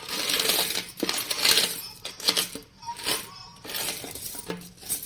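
A heap of coins tumbles out of a homemade coin box, a close, bright jangle of metallic clinks and chinks arriving in several loud bursts with short pauses between them, no talking over it.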